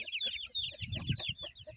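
A chicken clucks close by in a steady series of short, throaty calls. The clucking is moderately loud and plays on its own.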